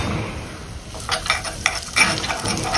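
Spoon stirring a sizzling tempering of hing, turmeric and cumin powder in a small pan, close and fairly loud, with a steady hiss broken by several scraping strokes in quick succession.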